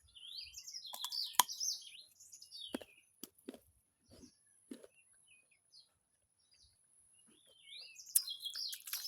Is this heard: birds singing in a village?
yes